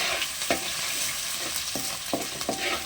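Crushed ginger and garlic fry in a pan under a constant close hiss, with several distinct scraping stirs of a spoon spaced through it and no voices.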